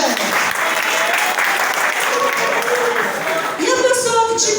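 A church prayer-group congregation claps in a dense, continuous round of applause, close and loud, with voices calling out over the clapping toward the end.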